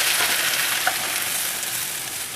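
Crushed tomatoes stirred into a meat sauce in a hot pan, giving a steady loud sizzle and bubbling hiss throughout with no talking.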